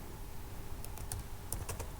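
Terminal commands tapped out on a computer keyboard during a Python install on Linux 20.04, a short burst of close, quick key clicks over faint background hum with no voice.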